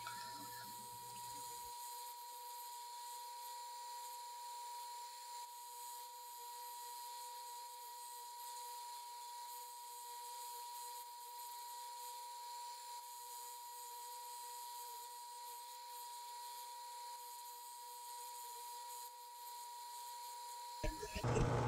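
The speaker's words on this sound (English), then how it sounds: "This is how I've been making lures for over a decade, is a rotating sanding surface and molding the lures." A rotating 50-60 grit sanding drum shapes a handmade wooden crankbait lure, giving a steady, unbroken grinding whir with a constant tone that stays even and close throughout.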